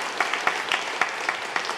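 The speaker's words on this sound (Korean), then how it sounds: "성도 여러분께서 다시 한번 박수로 환영해 주시기 바랍니다." A Methodist church congregation in Korea claps to welcome newly confirmed members, a brief even patter of applause with rhythmic accented claps.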